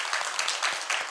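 Church congregation clapping together in a brief burst of applause, dense and steady with soft rhythmic peaks, fairly close and filling the room.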